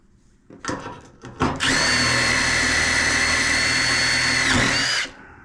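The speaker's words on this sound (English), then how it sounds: "I'm going to put a hole up under this screw" A power drill bores a hole under a screw during a car restoration, starting with a few short bursts and then running at a loud, steady whine for about three seconds before stopping.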